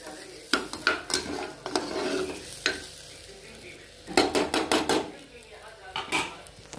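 Rice frying in a pan for pushpanna, soft steady sizzle broken by quick clusters of metal spoon scrapes and clinks against the pan, close and moderately loud, no talking.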